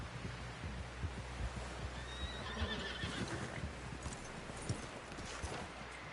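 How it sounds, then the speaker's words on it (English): A horse whinnies in the video game Red Dead Redemption over a soft rhythmic clip-clop of hooves, with low thumping in the background; the sound is fairly quiet overall. "Someone help John down off this horse."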